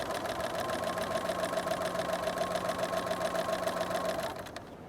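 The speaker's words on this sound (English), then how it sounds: "sometimes we need to keep the needle down, lift the foot and continue stitching" A sewing machine stitches quilt fabric with a fast, steady, even whir of the needle, running continuously for about four seconds before slowing to a stop.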